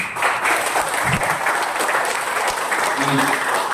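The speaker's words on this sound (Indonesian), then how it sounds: "Tepuk tangan sekali." A burst of enthusiastic applause from an elementary school crowd, dense steady clapping that holds throughout with some voices mixed in.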